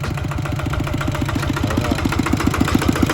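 A walk-behind farm tractor engine runs steadily at idle, close by, with a rapid regular chugging beat that stays constant throughout.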